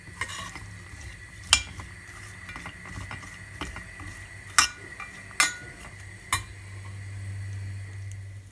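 Walnuts roast in olive oil in a pan for a celery salad, with a faint low sizzle broken by a handful of sharp metallic clinks and scrapes from stirring.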